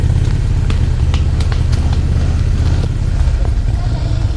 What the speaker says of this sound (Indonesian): Bisa nggak usah geber-geber gak?